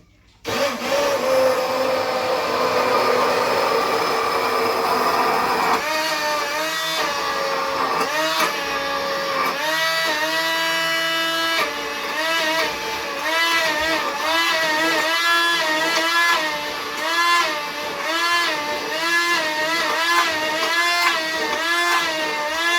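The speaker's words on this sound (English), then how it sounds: "when it begins to emulsify, you lift the blender a bit higher" Stick blender emulsifying homemade keto mayonnaise, a loud continuous motor whir with pitch wavering and surging as the blade is moved and lifted, running alone for over twenty seconds.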